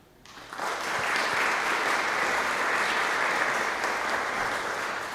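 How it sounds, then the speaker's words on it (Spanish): A seminar audience breaks into applause for the evening's guest professor, the clapping swelling quickly after a brief quiet start and holding as a dense, even wash of hands until the end. "para el cual pido un aplauso"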